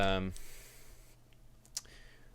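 A computer mouse clicks a software toggle button in screen-capture settings, giving a couple of quick, faint clicks in a quiet room after a voice trails off.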